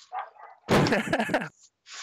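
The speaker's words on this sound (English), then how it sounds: "Apologise for the dogs." Dogs barking indoors during a recorded interview, a short burst of loud close barks with a brief spoken word nearby.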